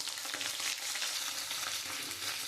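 Bitter gourd frying in white oil in a wok, a dense, even hiss of sizzling oil heard close and alone, without pause.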